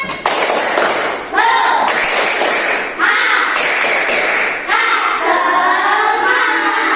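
A class of schoolchildren performs the tepuk semangat rhythmic clapping chant, loud, close bursts of clapping and sung voices in repeating segments, the rhythm breaking and restarting several times.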